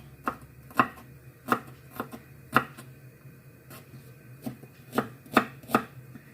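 A knife chops onion on a board in about a dozen sharp, crisp strokes at an uneven pace, close and clear with no talking.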